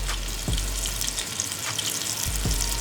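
Food fries in hot grease during a test for deep-frying salmon and shrimp, giving a continuous close sizzle with a few soft bubbling pops.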